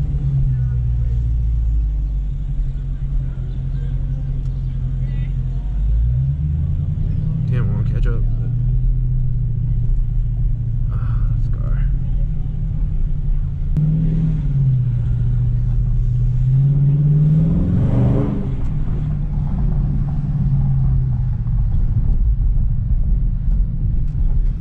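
A Ford Mustang's engine and exhaust rumble loudly and steadily nearby, rising in a couple of revving swells, while people talk excitedly over the low drone throughout.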